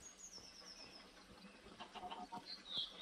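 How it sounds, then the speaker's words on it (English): A Minecraft chicken clucks faintly in short soft bursts over a busy game background of ambient noise, with no talk. "Chicken!"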